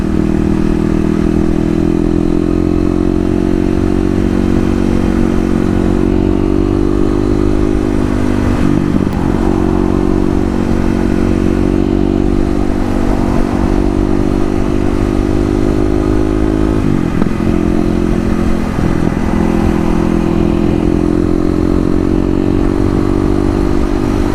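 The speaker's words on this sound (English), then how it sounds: "The most annoying thing is probably the wind noise from my helmet." Continuous loud roar of a KLX250 motorcycle engine at steady highway speed, heavily mixed with helmet wind buffeting, with no one speaking.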